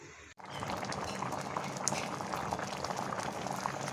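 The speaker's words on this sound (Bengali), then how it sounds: "দেখুন আমগুলো যে বলক উঠে গেছে" Mangoes for a sweet-sour-spicy mango khatta boil in a pot, with a brief quiet start, then a steady close bubbling and gurgling that keeps going to the end.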